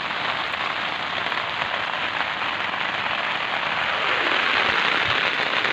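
Steady rain falls on surfaces in a chicken yard, a dense, continuous patter that swells slightly louder toward the end, with no voices.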